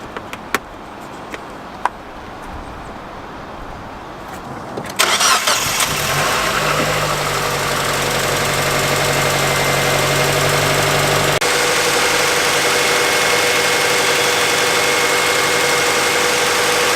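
A Mazda Miata engine fitted with a new accessory belt cranks and catches after a few quiet clicks, then settles into a steady, even idle that runs to the end with no talk.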